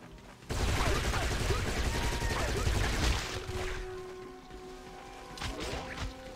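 Massed gunfire rattles from an entire firing line in Giants: Citizen Kabuto, a dense continuous volley for about three seconds that then thins and fades, with game effects and voices underneath.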